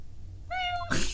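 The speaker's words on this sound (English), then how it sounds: "Hey, a kitty cat!" A single short cat meow from the Apollo Justice video game, clear and close, followed by a brief burst of noise.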